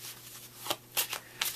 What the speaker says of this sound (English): you're gonna need to take out the jokers and shuffle this deck here.